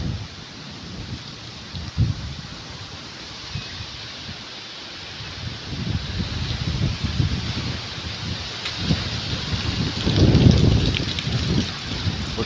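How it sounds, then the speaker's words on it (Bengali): A strong pre-monsoon Kalbaishakhi (nor'wester) storm wind roars steadily outdoors, with a low rumbling buffet that swells louder toward the end, mixed with a rain-like rustle. "প্রচণ্ড বাতাস"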